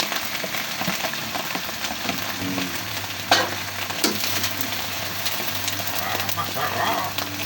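Sponge gourd (patola) sizzles as it sautés in a pan, a constant crackling fry with occasional stirring clinks and scrapes, close and moderately loud.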